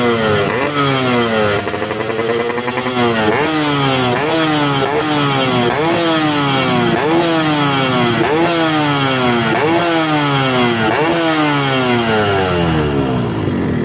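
A Yamaha RX King two-stroke motorcycle fitted with an SKR racing exhaust revs hard and repeatedly, its engine pitch climbing and dropping in steady, rhythmic blips. The sound is loud and close with no talking.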